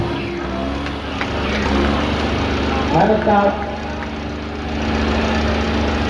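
Heavy Farmtrac 60 and Arjun tractor engines droning and revving steadily in a tug of war, with a swell of rough knocking midway, while a crowd and a commentator talk over them.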